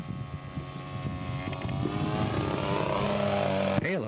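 A scale model aircraft flies a low pass with gear, flaps and tail hook down, its engine a droning buzz that builds in loudness as it comes nearer.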